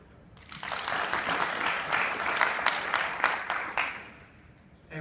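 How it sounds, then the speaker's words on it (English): Applause from an expo audience as a presenting startup is welcomed, clapping swelling quickly from quiet, holding strong with distinct claps, then fading out near the end. "Big round of applause for Meograph."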